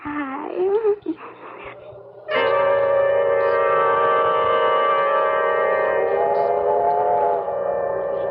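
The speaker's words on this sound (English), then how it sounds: "train's coming." An approaching train in a radio drama sound effect: a loud, sustained whistle wail swells in after brief voices, then holds steady for several seconds.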